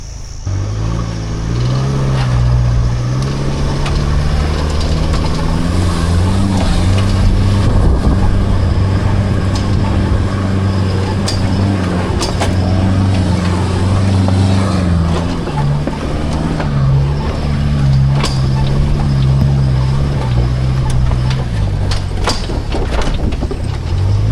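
A 4WD in high range first gear with both lockers engaged, towing a big caravan through soft beach sand at Pebbly Beach, Yuraygir National Park: a steady, loud engine drone with shifting load and revs throughout, no talk.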